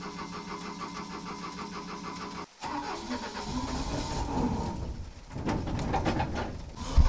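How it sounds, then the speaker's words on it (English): An excavator's engine turns over on its starter motor while the machine rolls downhill, giving a steady mechanical cranking drone that dips briefly before picking back up, close by, with no talk. "We are literally driving down the hill on the starter."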